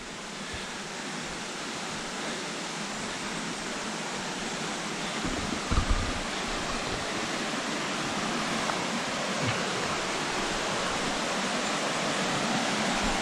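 A steady, dense rush of rain-swollen water pours under a railway bridge like a small waterfall, a constant broadband roar close by with no pauses and only a brief louder splash partway through.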